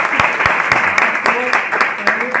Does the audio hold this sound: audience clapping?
yes